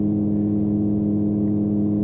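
Volvo mod truck in Euro Truck Simulator 2, a 630-horsepower engine pushed to full throttle at speed, giving a steady, loud low-pitched drone with a constant hum and no voices.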